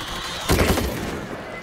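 An AUG automatic rifle fires in World War Z, a co-op zombie shooter, with a loud rapid burst that tails off into a decaying echo.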